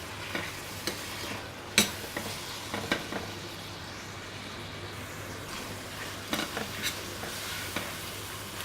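Tomato and spice masala for baingan bhurta, with khatai powder, frying in a pan, a soft steady sizzle broken by occasional sharp spoon knocks and scraping stirs against the pan.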